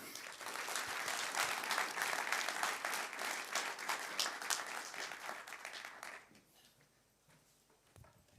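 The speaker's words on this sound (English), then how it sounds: "Let's make one round of applause" Conference audience in Amsterdam gives a long, dense round of applause at the close of a talk, loud and steady for about six seconds before fading to quiet room noise with a last few claps.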